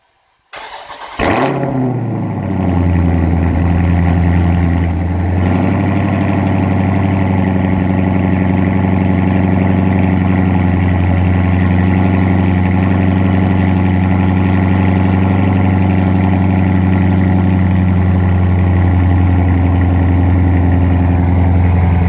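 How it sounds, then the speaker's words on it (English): A V8 car engine cold-starts on a 29-degree morning, cranking briefly before catching with a loud flare, then settles into a steady, deep, rumbling idle that continues close and unbroken with no talking. "You know we gotta start this thing out with that cold start."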